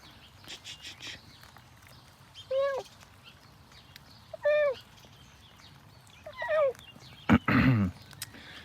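A pink-nosed cat sheltering from the rain outdoors gives three separate drawn-out meows at a moderate distance, spaced a couple of seconds apart, followed by a louder, harsher burst near the end over low background noise.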